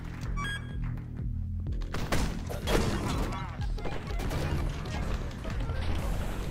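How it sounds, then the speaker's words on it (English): Rapid gunfire bursts and impact thuds from the video game Cobalt, dense and loud over game music, with some talk mixed in. "Just going blazing. Gun blazing. Shooting everybody."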